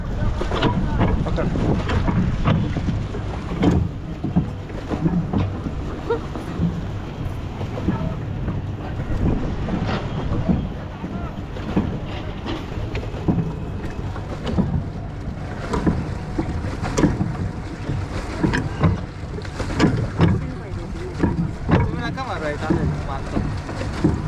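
A foot-pedalled boat moves on Upvan Lake in Thane, with steady wind buffeting the microphone, water lapping and churning around the hull, and people talking intermittently throughout.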